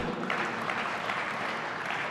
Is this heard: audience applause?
yes